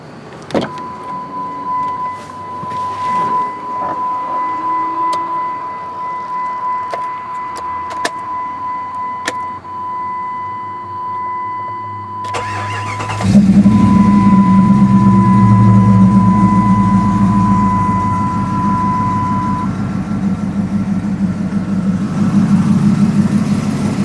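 A Jeep ZJ with a 5.2 V8, air gap intake, big throttle body, dual exhaust and cam sits quiet with faint clicks and a steady hum, then cranks and fires into a loud, rough, throbbing idle that holds.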